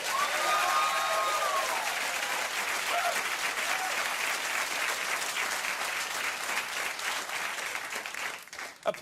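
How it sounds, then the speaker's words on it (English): A talk-show studio audience claps in a broad, steady wash of applause that stays full for most of the stretch, then thins and tails off at the end. "Applause really wasn't necessary."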